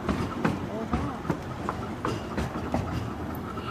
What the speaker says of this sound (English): we're now on the approach to the very impressive Seaton Tram station.